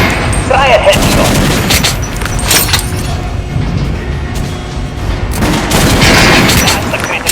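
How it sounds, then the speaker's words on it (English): Gunfire hitting an armored dummy in the video game Metro Last Light Redux, loud repeated rapid shots with sharp impacts in bursts, under a speaking voice. "Look for sparks to know when you are shooting an armored target."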